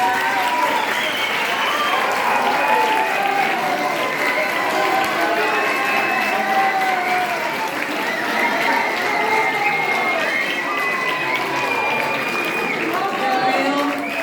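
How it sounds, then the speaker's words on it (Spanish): A lecture audience gives a loud, sustained round of applause after a talk, dense steady clapping filling the room, with voices and cheering mixed into the clatter throughout. "Y también antes de darle un fuerte aplauso a Roberto y agradecerle su presencia."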